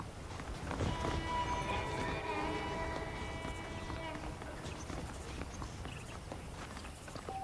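Horse hooves clip-clopping at a steady walking pace in the Red Dead Redemption video game, with the rhythm running under background music and game sounds.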